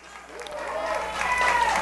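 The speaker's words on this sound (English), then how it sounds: "Tristan Harden gets a big round of applause" Crowd at a college baseball game between Cal Lutheran and Birmingham-Southern applauding a pitcher during a pitching change, a broad wash of clapping that swells and grows louder toward the end.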